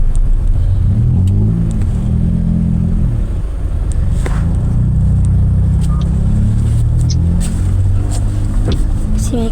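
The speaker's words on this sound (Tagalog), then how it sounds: "Uy, may truck." A truck engine passing close by, a steady loud rumbling drone that holds for the whole stretch with slight rises, while people talk over it.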